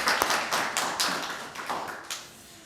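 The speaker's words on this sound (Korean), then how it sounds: "박수로 영광을 올려드리겠습니다." A church congregation claps together in praise to God during a Sunday worship service, a short burst of hand claps with a few sharper accents, steady and moderately loud before fading.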